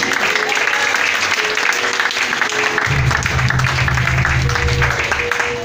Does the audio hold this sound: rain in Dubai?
no